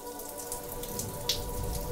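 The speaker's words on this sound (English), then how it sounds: "I took advantage of the shower." Water from a shower falls onto a homemade tipping-bucket rain gauge, a steady close patter of drops with a few sharper splashes, continuous throughout with no talk.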